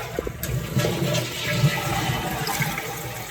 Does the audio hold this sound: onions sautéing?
no